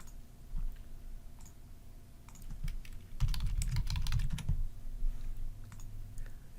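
Fingers type on a computer keyboard to search for a customer record in membership software, with scattered key clicks building to a dense, fast burst of tapping midway, then tapering off, close and clear with no voice.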